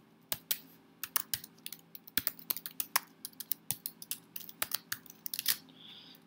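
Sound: typing code on a computer keyboard

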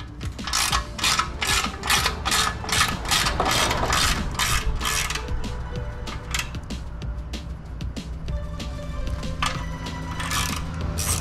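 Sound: ratchet loosening motorcycle skid plate bolts

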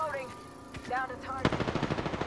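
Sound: gunfire from the video game Apex Legends

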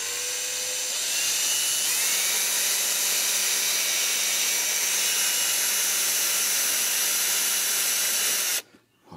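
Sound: small cordless screwdriver driving Torx screw into Worx robot mower wheel

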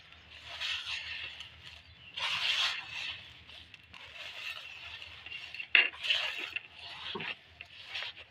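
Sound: kneading chhena (cottage cheese) by hand for pantua sweets

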